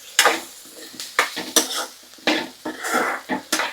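A metal ladle scrapes and clanks against a cooking pan as onions and tomatoes for a tomato capsicum curry are stirred, giving a close, irregular run of sharp metallic knocks over a light sizzle.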